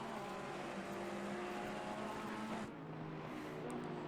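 GT3 race cars howl around the Zolder circuit in a racing video game, a sustained engine drone with shifting pitch as cars pass, briefly dipping partway through.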